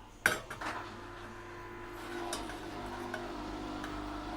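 Aloe vera oil is stirred in a pan over a very low flame. A utensil clinks sharply against the metal once, then scrapes softly under a steady low hum.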